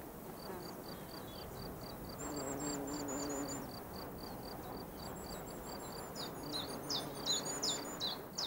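Wild birds, among them a shrike and a sparrow, call from tall grass in repeated short chirps and whistled notes, faint and somewhat distant over a soft outdoor background.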